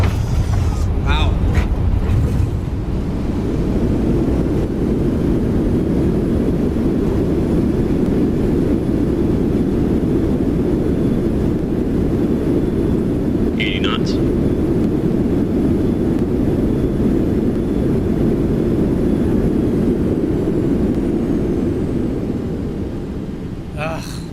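A Boeing 737 or MD-11 landing in the X-Plane 12 flight simulator, with a steady loud engine and wind roar droning continuously, a couple of brief clicks, then the rumble easing slightly at the end; a voice speaks underneath.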